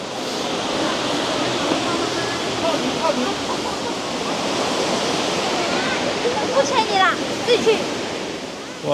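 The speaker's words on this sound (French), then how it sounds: "Il y a une première cascade, la plus haute derrière moi, qui fait 207 mètres de hauteur." The 207-metre Baizhangji waterfall in China gives off a steady, dense roar of falling water that stays constant throughout, with a few faint higher chirps near the end.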